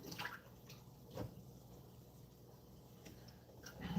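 Water runs steadily into a tank in a classroom, a soft continuous trickle and hiss with a few faint clicks and drips scattered through it.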